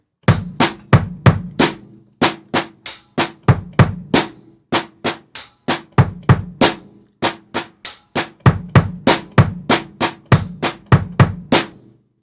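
A drum kit plays a steady repeating groove, with punchy kick and snare hits close up and no other sounds.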